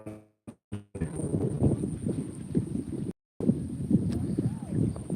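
Steady wind rushes and buffets the microphone beside high water at Vengal, Thiruvalla, with a brief dropout midway and faint voices underneath.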